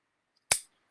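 Scissors make a single sharp snip as they cut through a wad of fabric for a ragamuffin doll. It is close and brief, with silence before and after.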